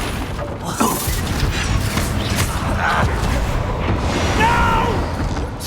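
Blasting Confringo spell erupting in explosive bursts during a Hogwarts Legacy battle, with a sharp blast near the start and another mid-way, over steady game noise and a speaking voice.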